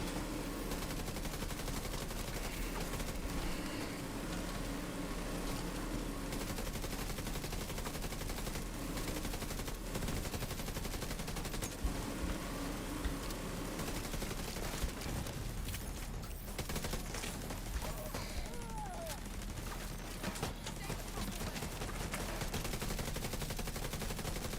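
A minigun firing in The Division 2: continuous rapid gunfire rattles on fairly quietly for the whole stretch, dense and unbroken, with occasional sharper cracks.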